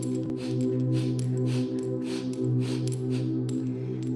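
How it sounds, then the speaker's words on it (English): Rapid, forceful breaths pulse in a steady rhythm, close up, layered over a sustained droning tone. "This breath is going to be like a forceful exhale."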